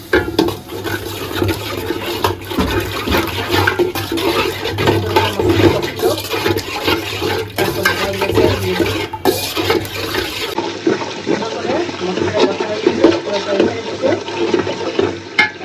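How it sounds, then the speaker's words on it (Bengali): Water pours steadily into a cooking pot of spices, turmeric, ginger-garlic paste, salt, cumin and chili for thin khichuri, a continuous rushing splash that stays close and loud before easing slightly near the end. "পানি আছে দিয়ে দিলাম"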